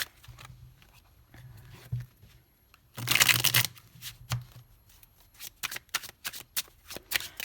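A deck of tarot cards being shuffled up close: a loud, dense riffle burst in the middle, then quieter scattered taps and slides of the cards being handled, with no voices.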